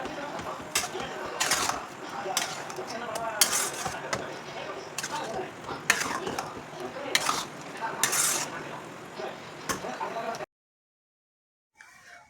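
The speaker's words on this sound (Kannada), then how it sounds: "ಸ್ವಲ್ಪ ಚೆನ್ನಾಗಿ ಫ್ರೈ ಮಾಡ್ಕೊಳ್ಳಿ." Tomato mixture for tomato bajji fried and stirred in a pan, a run of loud metallic scraping strokes against the pan over a low sizzle, ending in sudden silence.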